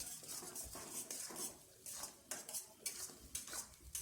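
A spoon stirs potato-pea curry in a pan, producing soft irregular metallic scrapes and clinks over a faint sizzle, quiet and close.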